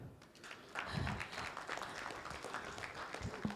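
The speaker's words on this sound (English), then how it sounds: "Ladies and gentlemen, this is the time when we need to clap." An audience at an infrastructure and BIM industry event claps together, an uneven patter of hands that swells after a quiet start and continues with some voices and stray noises.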